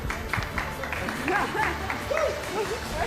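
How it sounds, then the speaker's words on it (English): At an MOU signing ceremony, an audience claps warmly throughout, softly and at moderate distance, while several voices talk over the applause. "A warm applause, please"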